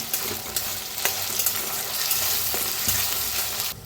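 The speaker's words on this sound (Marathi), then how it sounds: "आता कांदा चांगला भाजायला लागलेला आहे" Onion fries with ginger and garlic in a pan in a dense, continuous sizzle, close and steady, with scattered crackles and a few stirring scrapes throughout.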